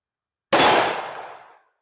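A single loud gunshot from a Springfield XDM Elite 3.8-inch OSP pistol firing .45 Super, a sharp crack with a ringing decay of about a second, alone after silence.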